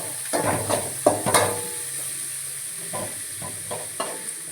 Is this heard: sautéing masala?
yes